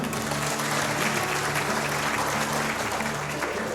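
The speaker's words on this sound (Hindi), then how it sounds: "जोरदार ताली होनी चाहिए" Loud, sustained applause from a seminar audience at a wellness product launch event, a continuous roar of many hands with a faint steady tone underneath.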